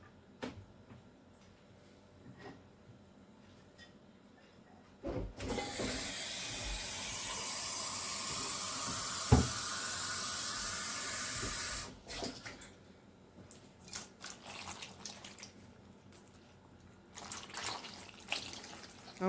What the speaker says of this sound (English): I'm putting cold water to stop the cooking,